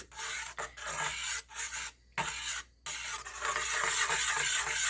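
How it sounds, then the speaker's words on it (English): Cheese stirred into a pot of macaroni and cheese made with Land O'Lakes White American, a steady raspy scraping and rubbing broken by short pauses, close and fairly quiet with no talk. "So we're going to keep adding the cheese and gently stirring it in."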